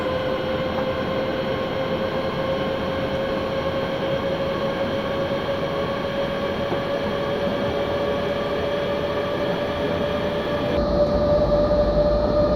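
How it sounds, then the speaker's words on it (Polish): A locomotive passes in Train Simulator Classic, a BR 189 electric hauling new cars, its steady loud rolling rumble and a sustained tonal whine continuing throughout, rising slightly near the end, with no voices. "ta lokomotywa będzie troszeczkę głośniejsza podczas przejazdu"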